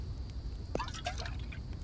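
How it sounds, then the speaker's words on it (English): Water is collected in the survival game The Infected: a few faint drips and small liquid splashes sound over a steady low background hum. "Go ahead and grab some water."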